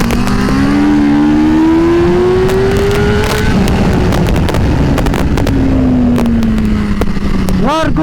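A Yamaha go-kart engine accelerates on the Sagittario Latina circuit with a rising drone that drops and climbs again near the end, close and loud, with crackles and some scattered clicks around it.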